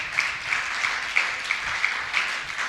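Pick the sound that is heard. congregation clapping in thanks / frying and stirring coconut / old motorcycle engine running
congregation clapping in thanks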